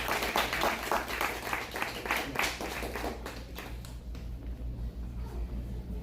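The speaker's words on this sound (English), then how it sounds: "Let's clap for PWs up next." Audience applause at an open mic poetry festival night, a dense burst of clapping that is loud at first and thins out toward the end, with a low hum in the background.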